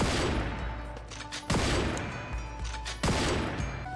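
A legendary piercing sniper rifle fires in the mobile shooter Pixel Gun 3D: three loud, sharp shots spaced evenly about a second and a half apart, each followed by a decaying ring.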